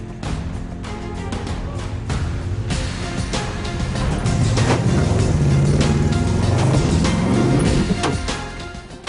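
A V8 ute truck engine crawls over steep rocky ground, a steady, close, loud rumble that swells and strains through the middle as it climbs, with knocks and clunks over the rock.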